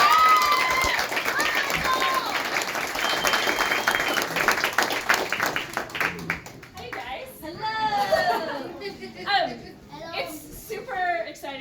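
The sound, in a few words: audience applause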